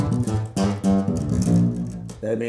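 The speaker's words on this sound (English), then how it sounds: "it's super punchy for a little mini bass, whatever this is, ukulele bass" A mini ukulele bass with a punchy, deep plucked tone plays a short run of low notes through effects pedals, thick and close, with no talking.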